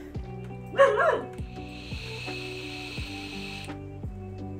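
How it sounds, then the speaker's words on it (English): A pet dog named Lilo lets out a short burst of barks and yips, up close and fairly loud, while steady background game music and a hum continue underneath. "Oh, the amount of sass from that dog"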